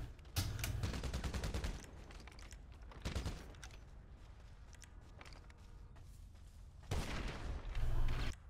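Gunfire in a shooter video game: brief loud bursts of rapid shots, separated by quieter stretches with faint clicking and footsteps.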